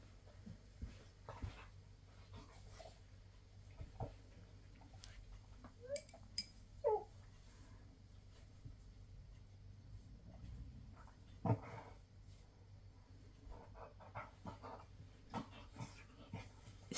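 Bruno the dog whimpers faintly indoors in a few short, thin whines, scattered over a quiet, steady room hum with soft shuffling.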